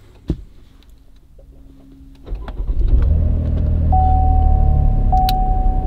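A 2019 Chevy Blazer's ignition comes on, then the engine starts and settles into a steady, loud running rumble, with a sustained electronic tone near the end.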